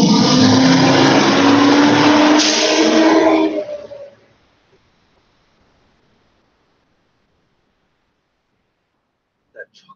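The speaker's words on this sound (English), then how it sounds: "now I got a trash truck right there" A trash truck rumbles loudly and close outside with a rising engine drone, then pulls away and fades to near silence within about four seconds; a faint click comes near the end.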